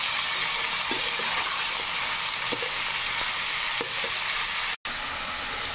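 Potatoes and onion stalks fry in a pan with a loud, constant sizzle that fills the space close by. A few faint clinks from stirring come through the hiss, and no voice is heard.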